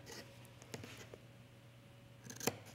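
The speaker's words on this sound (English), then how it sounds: "I'm going to trim just to that corner" Sharp-pointed scissors snipping fabric at a placket corner, a few quiet crisp cuts with a tight cluster of clicks near the end, close and faint.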